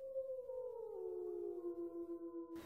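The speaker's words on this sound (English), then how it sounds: "Some thrill at hearing the wolves howl." Wolves in Lamar Valley, Yellowstone, give a long, smooth howl that slowly slides downward, with a second voice joining, distant and clear over a quiet background before an abrupt cut.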